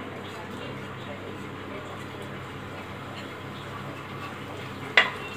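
Cumin seeds frying in hot oil with bay leaf in a pan, a quiet steady sizzle and crackle throughout, ending in one sharp clink of a utensil near the close.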